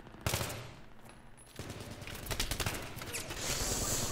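Gunfire in the video game Battlefield 3 comes as a sharp single shot, then dense rapid bursts of automatic fire that build toward the end, loud and crackling with no speech.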